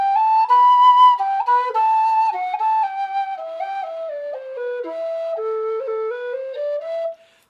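A D tin whistle plays a solo melody near the top of its second octave, bright and clear, stepping gradually downward before ending abruptly.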